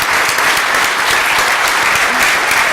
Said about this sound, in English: Brenda, how come you get more applause than I do?